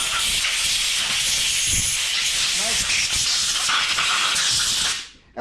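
Compressed air blasting crud out of a Mikuni carburetor, a loud, steady, close hiss that runs for several seconds before cutting off abruptly.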